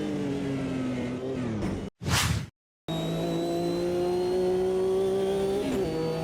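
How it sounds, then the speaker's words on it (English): Race car in Automobilista 2 roaring as it accelerates, its engine note climbing steadily after a brief sweeping whoosh and a moment of silence, loud and close with no talk. "He backed off on the straight, let me through, and put his foot onto the gas again."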